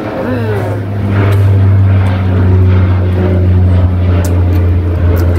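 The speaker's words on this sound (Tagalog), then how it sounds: "May aeroplano na naman daw dumaan mga idol." A propeller airplane drones steadily overhead at night, a strong low hum holding across the whole span with a slight swell, heard alongside background talk.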